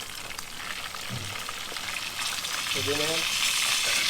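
Thinly sliced pork for Ilocano kilawin sizzles steadily in a hot pan, a close, continuous frying hiss with a few brief spoken words over it.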